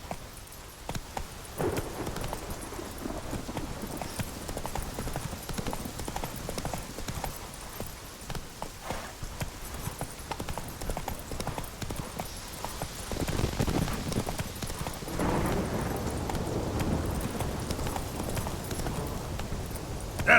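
Roach, Geralt's horse in The Witcher 3, hooves clip-clopping in a steady close trot, growing busier toward the end, with little talk.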